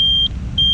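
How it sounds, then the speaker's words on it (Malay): The turn signal buzzer on an old Yamaha Y100 Sport motorcycle gives a steady, piercing high beep with a brief dip in the middle, loud and close over a low engine rumble. "dia punya signal ada buzzer dia, ada bunyi"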